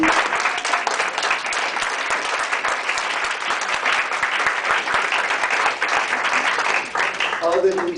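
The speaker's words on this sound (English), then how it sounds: "Norma, could we give Norma a round of applause, please?" Sustained applause from an audience at a library book talk fills the whole stretch, dense and steady clapping with a brief dip near the end.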